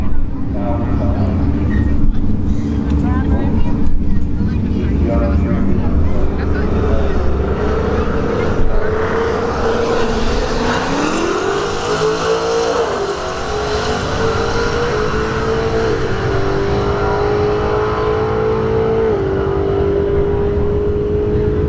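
Drag racing at a street-heat event with a Ford S550 Mustang 5.0 and an Audi, a loud, continuous engine roar holding steady, then a pitch sweep as a car launches and pulls away, with crowd and track noise throughout.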